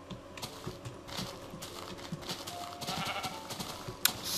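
Sheep bleating in the video game Minecraft during animal breeding, short game bleats heard over clicking and busy background noise, with one sharper sound near the end.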